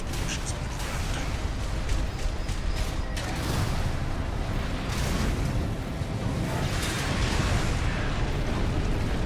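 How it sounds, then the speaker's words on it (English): Explosions rumble on the ground in a mech combat video game. A loud, continuous roar of booming blasts and bursts lasts the whole stretch without a break. "Use your mobility in the air to get clear of explosions on the ground."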